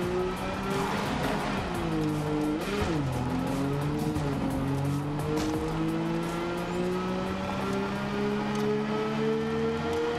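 A car drives in the Borderlands 3 video game, its engine a loud, close whine that dips and climbs with gear shifts before steadily rising, with some tire noise and no speech.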